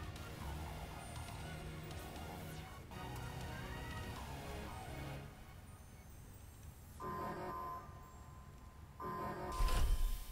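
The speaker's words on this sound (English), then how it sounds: "Well, that alarm doesn't sound good." An alarm sounds in the Pokémon Scarlet video game, a wavering, siren-like electronic tone that rises and falls in repeated sweeps over a busy game soundscape, with no one talking.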